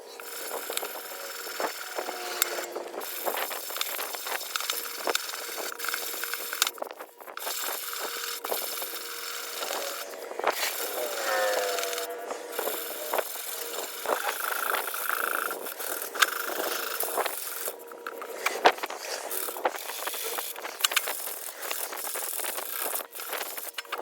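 80 grit sandpaper is worked over a dented Ducati fuel tank, a steady scratchy rasping with repeated strokes that continues evenly at moderate, close level.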